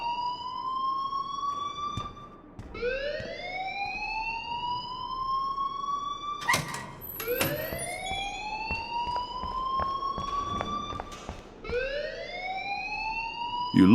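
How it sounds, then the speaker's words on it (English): Fire alarm in the video game Life is Strange, a loud electronic whooping tone that sweeps upward and repeats in long cycles, with some clatter and knocks between sweeps. "please turn off that alarm since that's your job"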